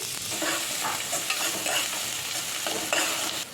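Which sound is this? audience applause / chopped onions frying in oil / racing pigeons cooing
chopped onions frying in oil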